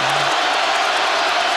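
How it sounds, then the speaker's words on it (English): A stadium crowd roars with a dense, sustained cheer at a 2010 college football game between Georgia State and Alabama, loud and continuous throughout. "That woke the crowd up here."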